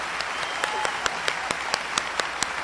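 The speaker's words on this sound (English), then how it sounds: "the applause that he is about to receive will speak for itself" A graduation audience gives steady, moderately loud applause, with a few sharp individual claps standing out above the dense clapping throughout.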